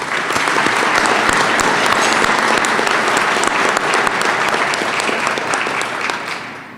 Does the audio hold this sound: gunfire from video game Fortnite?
no